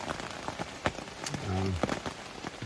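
Rain patters steadily on a tent at an Appalachian Trail campsite, an irregular close tapping of drops with a brief tonal sound in the middle.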